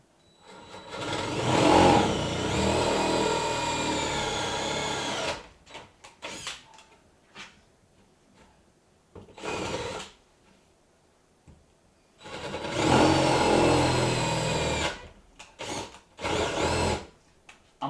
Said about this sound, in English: I'm only using the 9/16 initially because it's going to capture the nuts, and then I'll use a smaller drill bit further down for the bolts themselves.